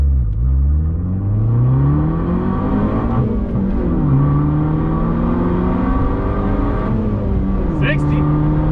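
A turbocharged Fiat 500 Abarth in sport mode pulls away from a standstill, its engine note climbing through several gear changes in rising sweeps, heard loud from inside the car, with a voice speaking over it.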